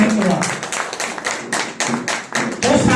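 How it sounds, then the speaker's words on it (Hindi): An audience claps together at a business plan seminar, a dense patter of hand claps rising and dipping in waves over about three seconds, close and fairly loud, with some voices mixed in. "एक बार सबके लिए जबरदस्त तालियां हो जाए"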